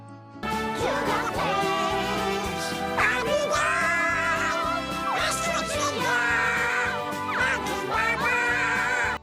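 A quacking Donald Duck–style cartoon voice sings a cover of a song with a backing band, loud and unbroken over the accompaniment.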